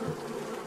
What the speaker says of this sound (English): Fuck off, wasps!